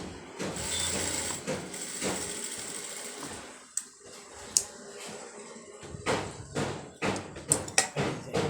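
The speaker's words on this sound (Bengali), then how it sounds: "আমি এখন এই যে আর এক সাইডের কাঠটা সেলাই করে নেব।" A domestic sewing machine runs in bursts while stitching the seam of a round-cut maxi dress, with a steady whirring drone broken by pauses and handling clicks toward the end.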